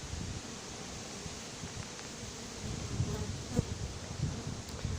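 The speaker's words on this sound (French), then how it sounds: "Le frelon vole et il se fatigue. Il se pose là." A hornet flies around an anti-hornet tent with 6 mm mesh set over a beehive, making a continuous, faint, low buzzing drone with a few soft ticks and rustles.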